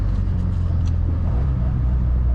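A 1965 Triumph TR4A convertible drives with its roof off, its engine a steady low rumble mixed with wind and road noise, loud and continuous throughout.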